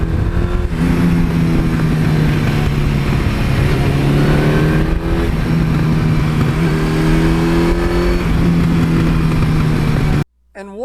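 Loud, close engine of a 1982 Suzuki GS1100E motorcycle, a steady low drone with repeated rising revs and gear-change dips, ending with a sharp cut.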